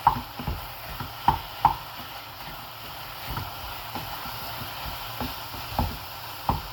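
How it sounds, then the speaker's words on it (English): Mixed vegetables with eggplant are stirred in a pan over high heat, with repeated soft scrapes and sharp taps of a utensil against the metal over a low, steady background hiss. "we continue to stir our vegetables"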